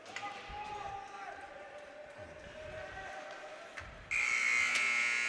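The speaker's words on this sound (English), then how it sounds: "And the buzzer sounds, ending the second period." A loud, sustained electronic buzzer blares in a high school ice hockey arena to end the second period, cutting in sharply after quieter rink ambience and continuing to the end.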